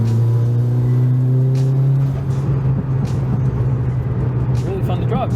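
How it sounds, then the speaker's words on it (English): A Mitsubishi Evo 9 revving with a loud steady engine drone that drops off into crackling exhaust pops and bangs, with someone talking over the end. "But we also got some little pops and bangs now"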